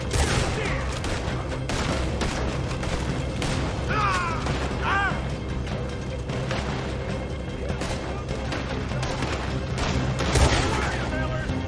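A dense, chaotic firefight in Red Dead Redemption 2 rumbles through the whole stretch: overlapping gunshots and booms sit under shouting voices and whistling tones, with no clear break.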